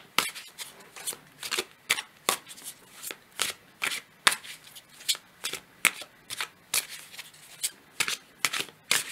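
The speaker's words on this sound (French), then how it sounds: "On va prendre une autre carte du tarot." Tarot cards are riffled and shuffled in a steady run of crisp, close snapping bursts, with papery slides and flicks between them as cards are handled and drawn.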